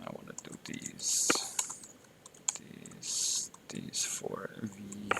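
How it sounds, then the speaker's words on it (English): Typing on a new computer keyboard, with bursts of quick clicking keystrokes mixed among louder broadband rustles and a person speaking at times. "This new keyboard I'm using is not the best."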